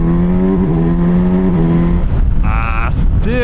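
A Kawasaki Versys 1100 motorcycle at full throttle in second gear, its loud engine holding a steady drone, then dropping away into a rougher, shifting tone near the end.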